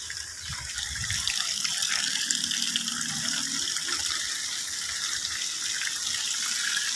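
Running water from a tap gushes steadily as shampoo is rinsed off a dog during a home grooming bath, a continuous close splashing flow.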